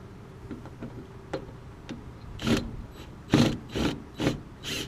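Screws being backed out while a burner assembly is taken apart: light ticking clicks at first, then a run of louder ratcheting, scraping bursts, close by with no talking.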